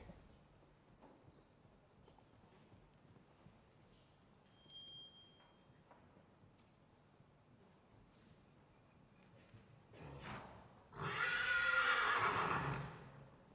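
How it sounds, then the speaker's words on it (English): A horse gives a loud, rising whinny near the end, following quiet arena ambience at a junior FEI vaulting world championship during the individual male compulsory round. "The horse is Aragorn Elmar."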